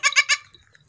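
A goat bleats three times in quick succession on a farm, loud and close, with a faint quiet tail after.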